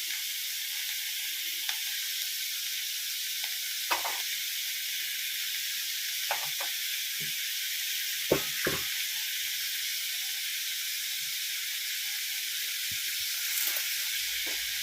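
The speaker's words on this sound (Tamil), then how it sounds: "வெங்காயம் நல்லா ப்ரௌன் கலரில் வதங்குற வரைக்கும் நல்லா வதக்கிடுங்க." Onions sautéing in a pan for a fenugreek curry, with a steady soft sizzle across the whole stretch and a few scattered clicks and scrapes of stirring. No voices are heard.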